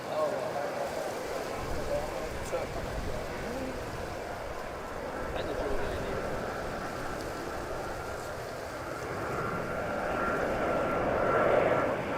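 An easyJet airliner at Stansted Airport roars steadily as a continuous broadband jet rumble, swelling slightly louder toward the end, with no talk over it.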